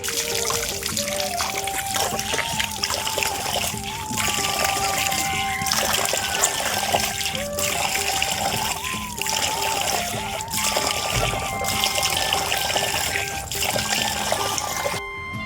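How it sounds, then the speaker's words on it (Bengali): Water splashes and trickles steadily at close range as someone rinses their mouth, with continuous dribbling and spattering throughout and no clear speech. "এখন মুখে জলটা নিয়ে নিই"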